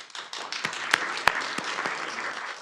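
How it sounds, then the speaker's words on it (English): A small audience at a council special meeting claps sparsely, with scattered sharp hand claps over a low background rather than full applause. "Adam, the clap's for you."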